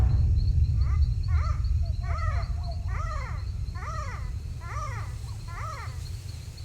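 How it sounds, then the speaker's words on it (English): A greater galago, or bush baby, calls at night with a series of about seven harsh, croaking cries in a steady rhythm, heard over a low rumbling background and faint insect hum. "This is the sound of the greater Galago, a small primate known as the bush baby."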